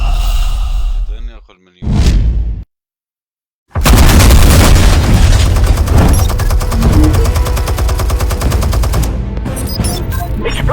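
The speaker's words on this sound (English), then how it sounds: "Explosives armed. Fire when ready." Explosives and gunfire in a video game: bursts of rapid automatic fire and heavy booms, loud and close. A short breathy vocal sound and an abrupt silent gap come early on, then dense, continuous firing follows.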